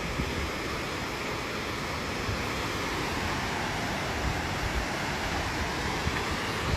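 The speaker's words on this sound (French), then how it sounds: "Petite cascade." Constant broadband rush of a small waterfall beside a snowy footpath along the Nakasendo trail between Nakatsugawa and Nagiso, steady and fairly close with no talk over it.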